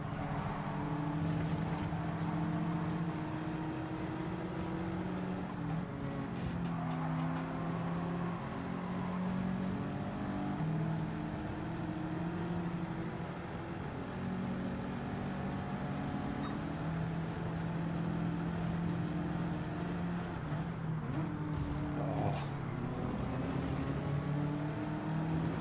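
A Nissan GT-R race car in the Gran Turismo 7 video game, a steady engine drone with shifting harmonic tones, periodic gear-change hisses and dips, sounding from inside the car and fairly quiet.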